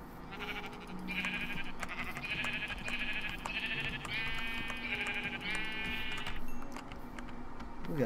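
Sheep bleat repeatedly in the Minecraft modpack FTB Infinity Evolved, a run of six or so wavering, nasal calls in close succession, moderately loud over a faint game background with no voices.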